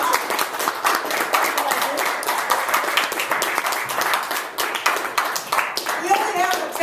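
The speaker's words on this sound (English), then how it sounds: "We only have a 10-second applause." An audience at a roast event bursts into sustained clapping for a speaker, dense and continuous applause from a crowd indoors, close and lively, with talking mixed in over it.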